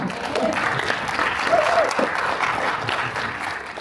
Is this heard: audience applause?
yes